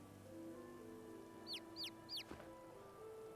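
Three quick, bright chirping clucks from a void chicken in Divinity: Original Sin 2, spaced evenly over a soft steady ambient bed, followed by a low thump.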